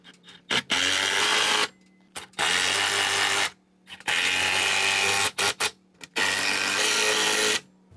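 A power driver sinks 12mm lag bolts to mount an outdoor Sylvox TV, with four loud, steady bursts of whirring, each about a second long, separated by brief pauses.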